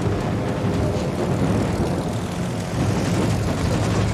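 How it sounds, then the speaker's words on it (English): Eight propeller aircraft from a carrier fly over in the naval video game World of Warships, a steady droning engine roar holding throughout, loud and without speech. "I'm flying 8 planes over"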